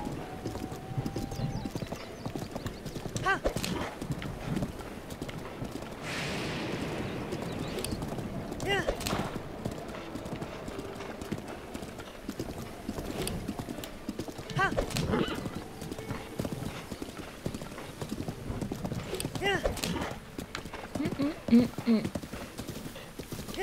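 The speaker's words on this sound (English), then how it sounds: "This horse does not want to stay in the road." Horse hooves clip-clop in a steady walking rhythm throughout, with occasional whinnies and background game sounds and a voice speaking at times, in The Legend of Zelda: Breath of the Wild.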